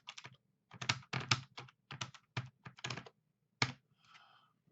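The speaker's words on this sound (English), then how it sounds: "I can do that just by typing some text here." Computer keyboard typing in short, quick bursts of clicking keystrokes with brief pauses between, close and clear, with a faint soft sound at the end and no talking.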